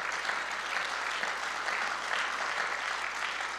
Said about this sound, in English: I think we owe God an applause.